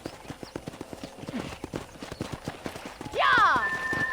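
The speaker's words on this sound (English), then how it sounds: "let's see if you can still ride a horse" Horse hooves clip-clop in an even trotting rhythm while riding in Red Dead Redemption, close and distinct, followed by a loud horse whinny near the end, with a voice speaking over the scene.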